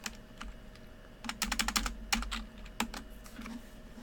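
Fingers tap on a computer keyboard in quick, irregular bursts of sharp clicks, close and fairly quiet, with brief pauses between runs of keystrokes.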